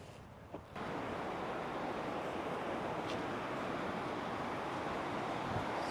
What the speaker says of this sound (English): Sound of water.